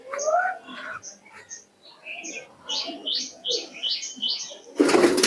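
Teddy pigeons at a home loft give soft coos and chirps in a string of short calls, close by, with whispery talk underneath and a louder burst of noise at the end.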